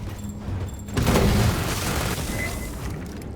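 A grenade blast in the sci-fi shooter Aliens Fireteam Elite: a single muffled boom that swells suddenly and rumbles briefly, with no talk over it.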